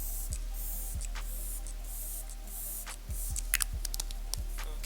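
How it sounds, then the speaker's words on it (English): Glow Recipe Watermelon Glow Ultra Fine Mist is pumped in about eight quick, close bursts, each a short soft hiss, with a low steady hum underneath and nobody talking. "Glow Recipe Watermelon Glow Ultra Fine Mist, just to kind of put some moisture in my face"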